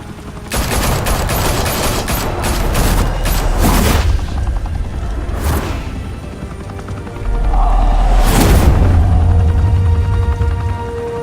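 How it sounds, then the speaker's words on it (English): Loud automatic gunfire in the Batman Telltale Series video game, rapid bursts of shots with sharp cracks and heavy booms, mixed with mechanical clanks and rumbling impacts. "Open fire!"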